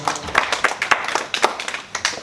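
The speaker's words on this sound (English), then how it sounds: "Give her a round of applause." A small audience at a poultry farming talk claps for a couple of seconds, sparse uneven hand claps close by, no voices.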